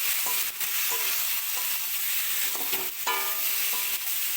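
Papaya, potato and soybean curry frying with spices in a pan, a steady close sizzle broken by repeated scraping stirs of a spatula against the metal.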